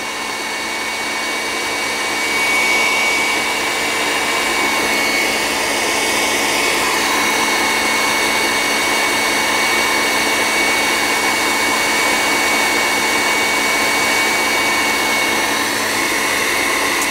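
Electric mixer with whisk attachment beating croquembouche mixture, a steady loud whirring drone that holds evenly without pause, alone with no talk.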